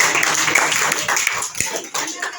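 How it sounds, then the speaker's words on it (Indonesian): A classroom of students claps for a classmate, a quick burst of dense, close applause with some voices mixed in. "Beri tepuk tangan untuk Jidan"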